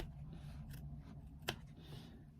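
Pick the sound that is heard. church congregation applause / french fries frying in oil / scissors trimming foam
scissors trimming foam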